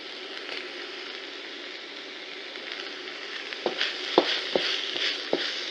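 Carrots and celery stir-frying in a pan, a steady soft sizzle with several louder scraping stirs and clatters toward the end.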